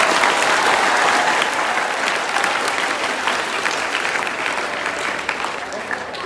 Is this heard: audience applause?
yes